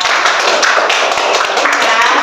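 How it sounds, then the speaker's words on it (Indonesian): A room full of people at a university session claps together in a dense, steady burst of applause lasting a couple of seconds, loud and close. "Keren tepuk tangannya ya"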